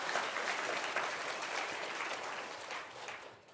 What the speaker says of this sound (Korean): 우리 수고한 우리 찬양대에게 박수 한번 보내드릴까요?